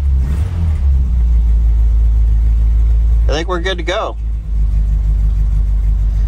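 A car engine idles steadily with a low rumble, its noise continuing under a brief spoken line from a man.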